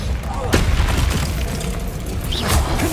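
A Bombarda blasting spell detonating in the Hogwarts Legacy video game: a sharp, loud blast followed by rumbling debris and crackling, with a fainter secondary burst near the end.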